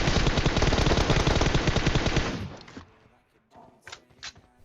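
Rapid automatic gunfire in the mobile battle royale game PUBG Mobile, a loud, dense burst of shots lasting a couple of seconds, then fading into scattered quieter game sounds.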